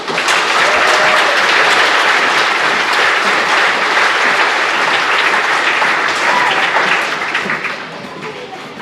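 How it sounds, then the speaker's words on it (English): A large audience at a school district Veterans Day program applauds the veterans, a loud, dense and sustained roar of clapping that holds for about seven seconds and then begins to fade. "Please give all veterans one more round of applause"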